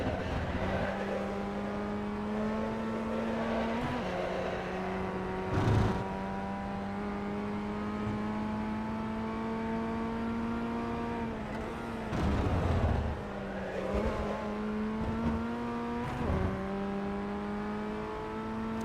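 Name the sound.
Formula Ford 1600 race car driving at Lime Rock Park, iRacing video game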